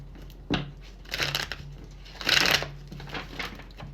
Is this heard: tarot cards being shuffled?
yes